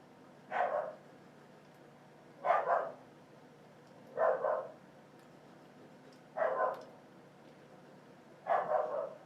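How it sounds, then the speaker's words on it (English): A dog barks in a slow, steady series of five short barks, each about two seconds apart, at moderate volume and a little distant, with no talk over them. "That's my dog."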